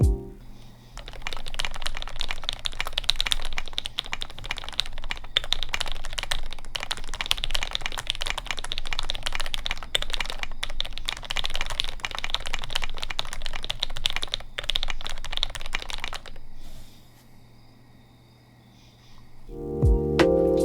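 A GMMK Pro custom keyboard fitted with Akko CS Rose Red switches, typed on quickly and steadily with dense, even clacks close to the mic, stopping near the end.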